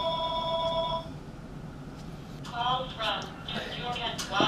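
A telephone rings indoors with a short burst of bright, electronic tone near the start, then someone talks over the quiet room.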